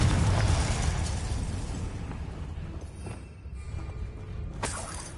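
Confringo fire spell cast in Hogwarts Legacy, a loud shattering burst up front that decays into a rumbling tail, with a second sharp crack near the end.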